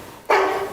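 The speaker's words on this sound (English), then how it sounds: "Who are you barking at?" A single sharp bark from a dog named Canelo, close and loud, with a short tonal ring that fades over a fraction of a second.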